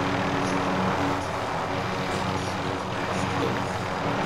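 A helicopter in the video game Call of Duty Warzone drones as a steady, loud rotor and engine roar with no breaks, while voices talk faintly beneath it.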